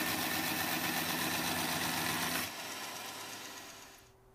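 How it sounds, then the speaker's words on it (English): An 18-TPI bandsaw blade cuts through aluminum stock with a loud, steady grinding whir. About halfway through the cut ends, and the motor keeps running more quietly before trailing off. "This is an 18 tooth per inch bandsaw blade. Notice how it cuts through the aluminum."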